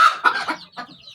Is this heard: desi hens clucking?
yes